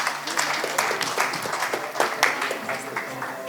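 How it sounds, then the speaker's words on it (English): At a panel event in Jammu, an audience applauds with a dense, lively patter of clapping at fairly even loudness for a few seconds, and a few voices can be heard underneath. "Can we have a big round of applause, please?"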